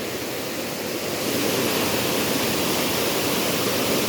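Loud, continuous roar of Mapita Falls in the rainy season, water crashing down steadily with no other sounds.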